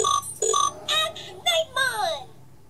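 A Digimon Digi-Fusion Loader toy plays a short sequence of chirpy, high-pitched synthesized bleeps and warbling tones, including a descending wobbly sweep, fairly loud and close.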